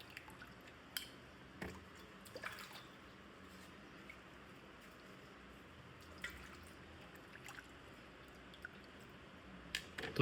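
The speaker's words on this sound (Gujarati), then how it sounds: "એક એક કરીને બધા શક્કરિયા આપણે ધોઈ નાખવાના છે" Sweet potatoes are washed one by one in clean water, giving soft splashes, drips and wet handling sounds at close range, with scattered louder sloshes over a low background and no talk.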